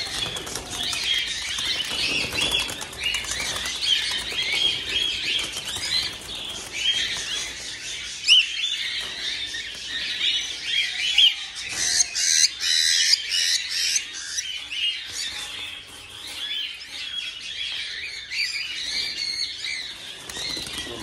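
A flock of birds beats its wings in a busy, continuous flutter, mixed with repeated squawks and chirps, loud and close for the full length.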